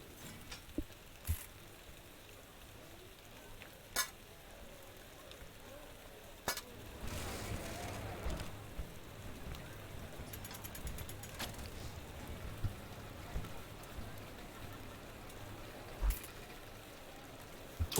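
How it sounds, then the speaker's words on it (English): Rain falls in a desert area of the Parkitect theme park video game. A steady soft hiss thickens partway through, with occasional faint clicks from the game. "It's raining in the desert, apparently. It is raining."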